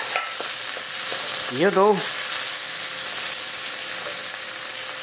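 Tomato and ginger stir-fry in a pan for a kangkong dish, a steady sizzle under brief talk.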